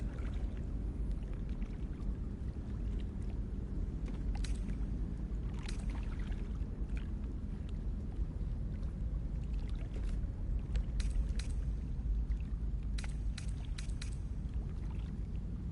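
Boat drifting on dark water in Baldur's Gate 3, a steady low wash of lapping water and creaking with faint occasional clinks, continuous and moderately quiet, without speech.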